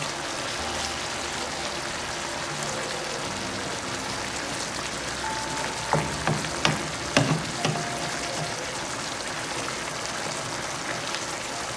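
Brown stew fish simmers in gravy in a pot with a continuous bubbling sizzle, close and fairly loud, while a few sharp clatters of a utensil break through midway.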